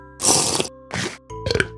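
Minecraft eating sound: three crunchy bursts of chewing and munching, the first longest, close and loud over a faint steady tone.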